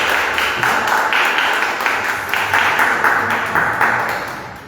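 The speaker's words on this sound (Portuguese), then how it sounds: "aplauda o Senhor recebendo a pastora" A church congregation applauds to welcome the pastor, with a lively burst of many hands clapping in rhythmic waves that fade toward the end.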